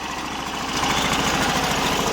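A 2001 Arctic Cat ZR440 Sno Pro snowmobile engine idles nearby with a fast, even, buzzing putter. It grows slightly louder partway through and keeps running steadily on its own.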